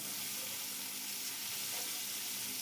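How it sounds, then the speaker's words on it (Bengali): Bele fish coated in salt and turmeric fries in a pan, giving a soft, continuous sizzling hiss that stays even and faint throughout, with no talking. "বেলে মাছগুলো লবণ হলুদ দিয়ে মেখে এখন ভাজা বসিয়ে দিয়েছি"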